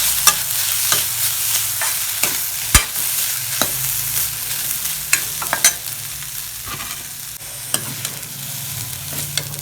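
Grated coconut and coriander sauté in a pan for South Indian chutney, a steady close sizzle broken by repeated scraping stirs and clinks of the spoon, with no voices.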